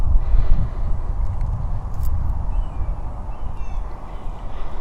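Crows caw a few times in the background of a windy outdoor morning at a big cat sanctuary, the calls faint under steady wind rumble.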